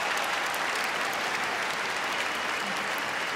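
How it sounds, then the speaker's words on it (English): Dense, steady applause from a large audience at the Crufts 2016 gundog display fills the whole stretch at an even level, with no voices over it. "let's give them all another massive round of applause"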